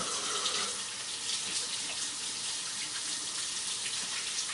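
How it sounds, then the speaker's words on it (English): Tap water runs steadily from a kitchen faucet during hand washing while pork belly is being prepared for homemade bacon; a loud, close, continuous hiss and splash with no break. "Wash our hands."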